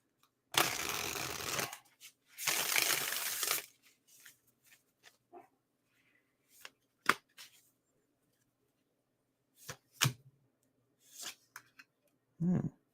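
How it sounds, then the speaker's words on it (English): Tarot cards are shuffled by hand in two loud riffling bursts, then handled with sparse soft taps and flicks against a quiet background. "Let me do one more shuffle."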